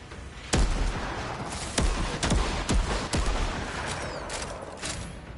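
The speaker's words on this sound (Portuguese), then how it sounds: "Nossa, o tiro dessa arma ficou bonito demais." Weapon fire in the video game Outriders, a series of sharp, loud shots spaced irregularly about a second apart over a constant background rumble, with no talk.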